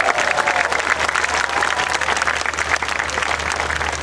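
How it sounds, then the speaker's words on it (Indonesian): A crowd at a revival church service in a sports hall applauds, with dense, continuous clapping that stays loud and even throughout. "Yang percaya berikan tepuk tangan buat Tuhan."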